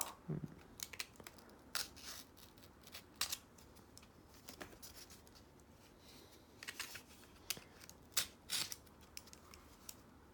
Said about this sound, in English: I am going to have to cut the tape